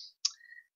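A single computer mouse click selecting a file on a Windows 7 PC, crisp and close, followed by a faint tonal trail and no talking.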